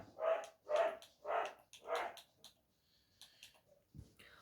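Four loud, evenly spaced barks from a nearby dog, followed by a few fainter yips and a short thud as things quiet down.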